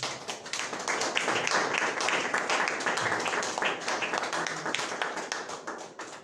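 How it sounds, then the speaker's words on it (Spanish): A crowd applauds with steady, dense clapping that fills the space and continues throughout at moderate volume. "Denle un fuerte aplauso al Señor."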